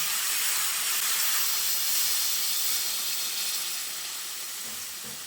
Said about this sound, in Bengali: এবার আমি এর মধ্যে গরম জল দিয়ে দিচ্ছি